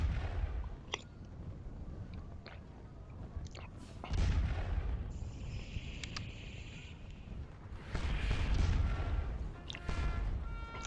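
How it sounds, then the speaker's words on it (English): Cannon fire in a Napoleonic-era artillery duel thuds and booms intermittently, with sharp reports and rolling low rumbles at a moderate distance, set against a faint windy backdrop in a battle game. "just having a good old-fashioned artillery duel"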